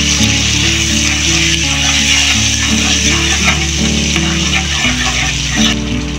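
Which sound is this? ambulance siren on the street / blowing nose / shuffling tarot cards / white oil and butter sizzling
white oil and butter sizzling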